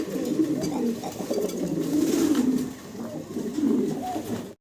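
A pair of fancy pigeons coo close by in repeated low, throaty rolling calls, with a short pause before a final burst, no voices over them.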